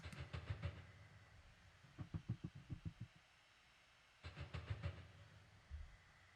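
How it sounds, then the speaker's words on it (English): Tram noise within a recorded soundscape: rhythmic clickety-clack bursts of wheels over rail joints come in quick clusters, low and rumbling, separated by short quiet gaps, fairly faint overall. "Some noise here and there from the tram."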